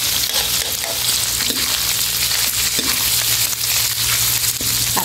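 Thai pork larb with fresh spice paste stir-fries in a hot pan, giving a loud, steady sizzle with frequent scraping stirs throughout and no talking.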